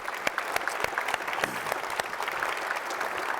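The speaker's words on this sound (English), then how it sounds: "So would you give them both a huge round of applause for me?" A live audience at a public talk on Ontario's economy applauds steadily, dense clapping from many hands sustained at moderate level throughout.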